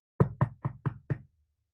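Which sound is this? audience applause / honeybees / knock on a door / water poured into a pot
knock on a door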